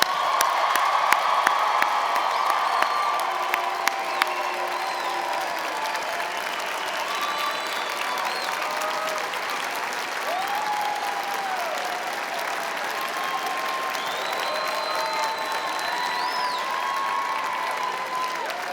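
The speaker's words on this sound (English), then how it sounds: "Let's have one more round of applause" Sustained applause from a large crowd at a university commencement ceremony, with scattered cheers and whoops, steady and dense throughout.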